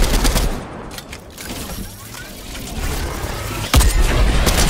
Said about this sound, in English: I just shot him in the head